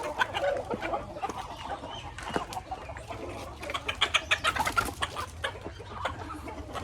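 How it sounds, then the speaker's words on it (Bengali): Farmyard chickens released from their coop cluck and squawk in a busy, overlapping chorus close by, with scattered rustling and no talking. "মুরগিগুলো আমি ছেড়ে দিচ্ছি আপনাদেরকে দেখানোর জন্য"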